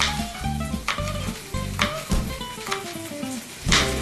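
Peas stirred in a hot pan for a mushroom, carrot and pea salad, sizzling steadily with a few soft scraping strokes spaced through it, close and fairly loud, no voices.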